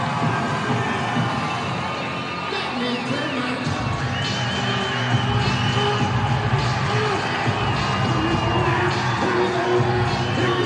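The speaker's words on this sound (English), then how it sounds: "The Grand Street crowd is going." Fans cheer and shout for Grand Street at a PSAL boys' high school baseball city championship against John Jay at Yankee Stadium, a loud sustained crowd roar with whoops, under an announcer's voice.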